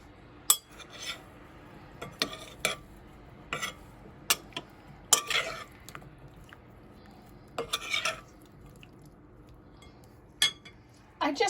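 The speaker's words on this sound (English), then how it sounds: "So now I need to toss these in a little bit of flour to coat them." Drained fruit for a fruit cake being tossed in flour in a bowl, with intermittent clinks and scraping knocks of a utensil against the bowl spaced across the quiet background.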